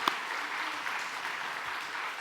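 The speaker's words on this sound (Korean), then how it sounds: "영광의 박수 올려드립니다." A congregation applauds at a Sunday afternoon church service, a steady burst of clapping from a crowd that carries on evenly throughout.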